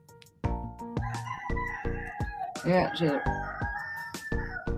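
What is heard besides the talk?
roosters crowing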